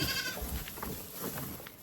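A goat bleats faintly in a rural yard where bundles of grass and firewood are left out. The calls are brief and soft in the short stretch, over low background noise.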